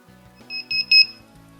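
A DIY kit electronic alarm clock beeps in three short, sharp, high-pitched pulses, each a little louder, over a faint low electrical tone.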